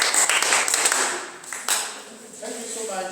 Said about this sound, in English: Can we clap for this young man?